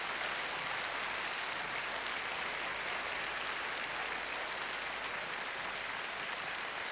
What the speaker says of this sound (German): jetzt dachte ich eigentlich, dass es einen tosenden Applaus gibt hier für unsere Paare